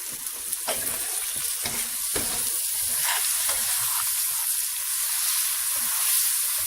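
Noodles sizzle and brown in a frying pan with rice, a continuous bright frying hiss punctuated by a few soft scraping stirs and clinks near the start.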